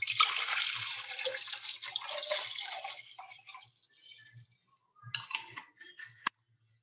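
Water pours into a glass and a jug in a steady, bright splashing stream that fades away, then returns briefly in a short second pour before stopping abruptly, with no talking.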